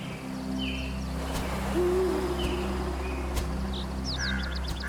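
An owl hunting bats at night in the Grand Canyon region of the southwestern United States gives a single low hoot over a steady background hum, with a few faint, high bird-like chirps scattered around it.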